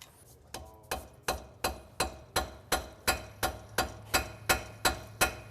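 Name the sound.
rounding hammer striking hot metal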